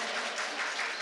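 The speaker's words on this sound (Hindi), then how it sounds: "एक बार जोरदार तालियां बजा के मुझे" An audience applauds at a mushaira, a steady wash of dense clapping that stays even and fairly distant for about a second, with no one speaking over it.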